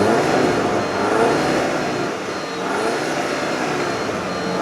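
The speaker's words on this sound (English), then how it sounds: "I'm going to give it some gas, and we're going to take a listen and see just how quiet it is" A 2013 Audi A5 Quattro with a four-cylinder turbo engine is revved steadily and loudly at close range, a continuous smooth drone with no voices over it.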